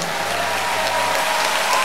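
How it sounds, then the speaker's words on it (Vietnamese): Steady crowd applause at a live concert, a continuous wash of clapping from the audience for the pink saxophone player, even and sustained throughout. "Một tràng pháo tay cho saxophone hồng kia ạ."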